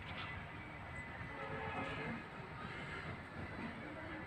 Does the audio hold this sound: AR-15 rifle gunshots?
no